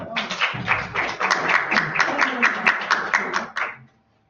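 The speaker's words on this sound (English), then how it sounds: "Can we please clap for them?" An audience applauds presenters in a classroom or lecture setting, a steady burst of many hands clapping close by for about three and a half seconds before dying away.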